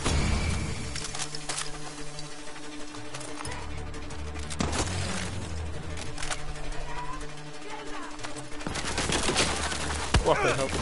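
Rapid gunfire in the Far Cry 6 video game: repeated sharp shots and bursts throughout, with busier firing near the end, under game music and some talk.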